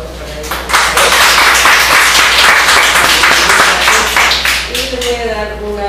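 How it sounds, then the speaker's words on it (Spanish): Conference audience applauding a psychology speaker, loud dense clapping that builds quickly and holds, with a voice speaking over it near the end. "Un aplauso para ella."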